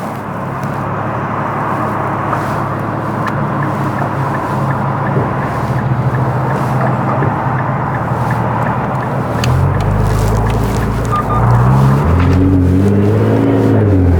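A Nissan GT-R R35 engine idles with a deep, steady rumble on its first start of the year, then revs up with rising tones near the end, loud and close, without talking.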